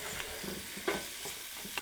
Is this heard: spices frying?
yes